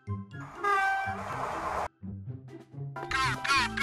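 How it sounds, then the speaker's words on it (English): A freight train rumbles past with low clattering, a loud horn-like tone sounding twice, broken by a brief drop to quiet in the middle. "Freight train."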